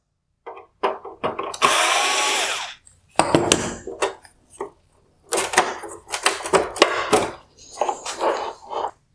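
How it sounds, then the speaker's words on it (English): Torx screws being removed from a Mercedes GLC300 LED headlight with a power screwdriver, heard as several close, loud whirring bursts of a second or so, separated by short pauses and small clicks and handling noises. "remove the torque screw here holding in the LED light bars"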